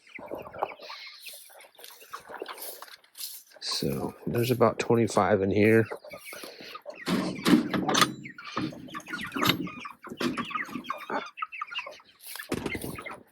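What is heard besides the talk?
chickens clucking in a chicken coop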